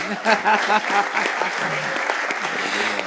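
An audience at a church gathering cheers and applauds, giving steady clapping with a rushing texture. A voice speaks over the crowd at the start, and the applause carries on throughout.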